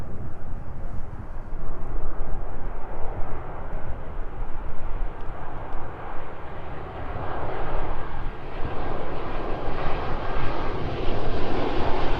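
A Boeing 747 cargo jet touching down at East Midlands Airport, a loud, broad engine roar that holds steady and then shifts in pitch as the aircraft rolls out along the runway.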